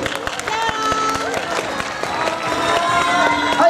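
An audience at a cheerleader stage show and game event claps and cheers as a performer is introduced, a busy crowd wash with music and voices mixed in over it.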